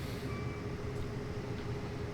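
A locomotive in Train Simulator 2022 drives on the Marias Pass route, giving a steady low rumble and rolling wheel noise with no breaks. There is no talking.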